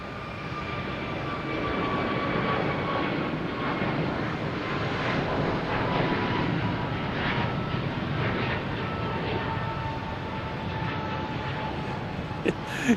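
American Airlines Airbus A321neo jet engines at Boston Logan Airport roar steadily for the whole stretch, a broad sustained rumble with faint tonal whine, fairly close and without talk.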